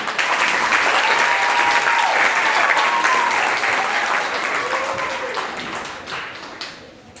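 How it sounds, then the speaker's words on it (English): Loud, dense audience applause at a summer music camp recital welcomes the beginner Level 1 band to the stage, holding steady for several seconds before thinning out, with faint tonal sounds underneath. "Give them a round of applause"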